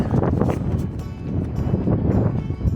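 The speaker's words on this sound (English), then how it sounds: "It is very windy today, so hopefully you can hear me." Gusty wind buffets the microphone in uneven rumbling bursts, loud and close, with no voices over it, outdoors in the Gila area of New Mexico.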